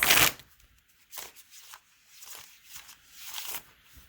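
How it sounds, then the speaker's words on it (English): Cards are shuffled slowly, with a sharp riffle at the start followed by several soft, spaced flicks and rustles close by. "Oh, that was a slow shuffle."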